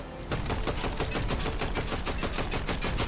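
Rapid rifle fire in a video game, a fast continuous burst of shots starting abruptly and running loud and steady to the end, with no talk over it.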